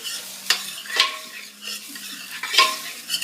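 Leftover rice is stir-fried in oil in a hot pan, giving a soft steady sizzle broken by a few sharp scrapes and clinks of a utensil against the metal, close by with no talking.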